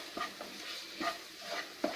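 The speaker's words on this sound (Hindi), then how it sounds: "इनको तकरीबन 1 मिनट के लिए स्टर करना है।" A spoon stirs masala spices in a pan for Amritsari pindi chole, with amchur, anardana and mint leaves mixed in; soft scraping strokes come in a few separate bursts over a light sizzle.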